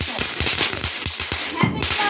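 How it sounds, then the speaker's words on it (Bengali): Chorki spinning firework lit for Diwali, giving a rapid run of crackling pops and fizzing bursts, close and loud, with a steady hiss underneath. "চরকাটা ধরাও, চরকাটা ধরাও।"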